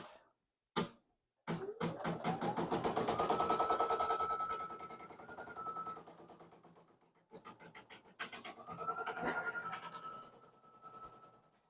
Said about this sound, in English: select embroidery, let my foot down, and then go ahead and stitch this out